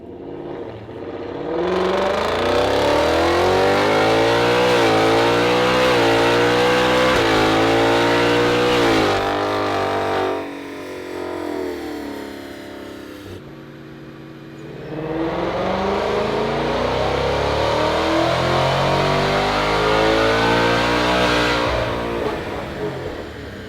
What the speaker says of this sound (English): we're going to take this over to the dyno right now, strap it down, get some horsepower numbers, real time